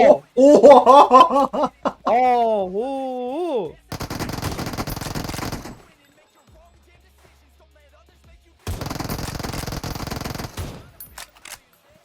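Automatic gunfire in the mobile battle royale game PUBG Mobile, dense bursts around the middle and again near the end, loud and close, following excited vocal sounds and laughter at the start.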